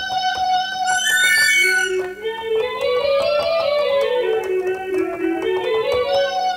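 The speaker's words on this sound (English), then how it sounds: "What about a screeching owl?" An organ built from owl garden ornaments plays a screech owl's trilling call, organ-like wavering whinnies that rise and fall in pitch, sustained and continuous throughout.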